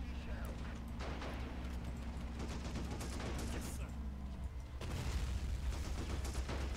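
Gunfire in the Men of War: Assault Squad 2 strategy game, a steady crackle of shots over a low engine-like hum, then a louder burst near the end, with a voice talking over it.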